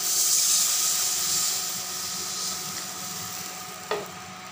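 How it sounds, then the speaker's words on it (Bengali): Water goes into a pan of frying eggplant with green chilli tempering, setting off a loud, bubbling sizzle that is strongest at first and slowly subsides, then a brief sharp scrape or clatter near the end. "এবারে জল দিয়ে দেবো"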